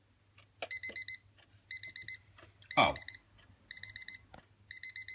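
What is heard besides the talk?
Darth Vader twin bell alarm clock beeping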